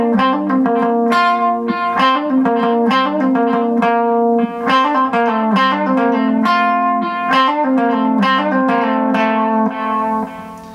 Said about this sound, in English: I'm just using quarter note delay.